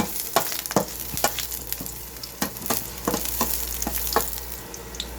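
Garlic sizzles steadily in a hot pan for beef con broccoli, with a spatula scraping and stirring in regular strokes above the continuous frying hiss.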